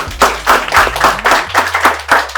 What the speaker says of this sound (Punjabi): ਸੋ ਕੁੜੀ ਲਈ ਜ਼ਰੂਰ ਤਾੜੀਆਂ ਲਾਓ ਇੱਕ ਵਾਰ